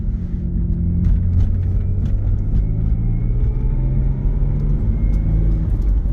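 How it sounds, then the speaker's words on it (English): A 1998 Mitsubishi 3000GT VR-4's engine hums steadily from inside the cabin, a continuous low rumble with road noise as it drives along without talk. "we're going on a quick test drive here"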